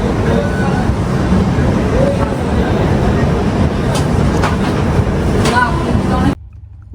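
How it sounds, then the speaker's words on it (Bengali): Steady rumble of the 13147 Uttarbanga Express running at speed from Sealdah toward New Jalpaiguri, heard inside an AC 3-tier coach, a continuous muffled drone with a few faint clicks, then cutting off near the end. "একদম রাইট টাইমে চলছে ট্রেন।"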